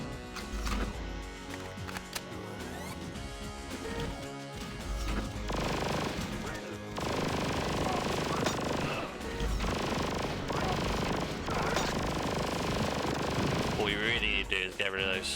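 Rapid bursts of turret gunfire in a PlayStation demo disc game, loud and dense over a continuous game soundtrack, with repeated impacts and explosions throughout and a brief shift near the end.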